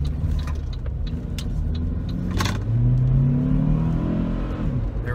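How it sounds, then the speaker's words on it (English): A Saab 9-3 in sport mode accelerates around a corner, its engine note rising and revving in a steady, close whirring surge that climbs in pitch midway. "we'll pop it into sport mode here and just give it a little test around this corner"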